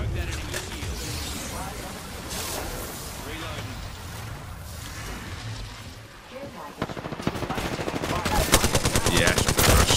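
Dense automatic gunfire in Apex Legends, continuous rapid bursts throughout with a sharper, faster volley near the end, under excited player talk.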